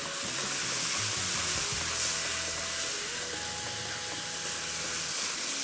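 Chatkhara kaleji masala fries in hot oil, a steady close-up sizzle and hiss with some stirring, continuous throughout and with no talking.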